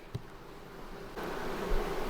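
Honey bees fly around beehives in an outdoor bee yard and make a faint, steady buzz at a distance, with a soft thump near the start and a little rustling.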